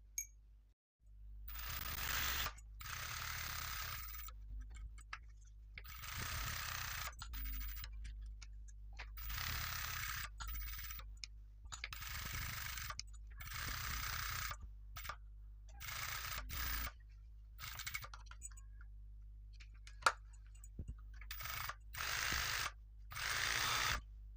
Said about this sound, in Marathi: चला आता आपण अशी टीप मारून घेऊया खाली पण आणि गळ्याला पण